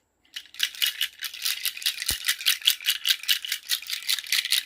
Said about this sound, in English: This is a nut rattle, and this does have a sound, loud sound.